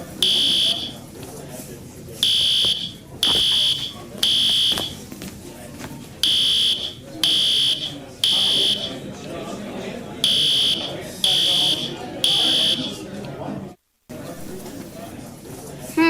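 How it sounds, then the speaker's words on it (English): A building fire alarm, just pulled, sounds in loud repeated buzzing blasts about a second long, separated by short gaps, over steady crowd babble and chatter in a noisy indoor space. "I'm going to pull the fire alarm. It's so loud here."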